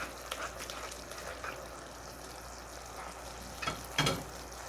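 Manchurian sauce for gobi manchurian simmers in a pan, giving a soft steady bubbling sizzle with a few stirring scrapes, close and quiet, with no talking.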